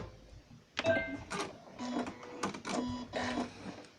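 A sewing machine back stitches the seam of a round cushion in short stop-start bursts, several quick whirring runs separated by brief pauses, close and fairly quiet with no talking.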